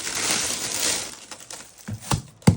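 Crisp crinkling and rustling of thin striped tissue paper from a subscription box handled up close, with a few sharper crackles and taps toward the end.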